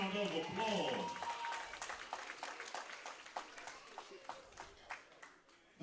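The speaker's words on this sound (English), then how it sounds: "Let's give these two boxers another round of applause." Crowd applause for two boxers at a fight night in Jackson, Tennessee, loud at first and then thinning into scattered claps, with a voice speaking over it.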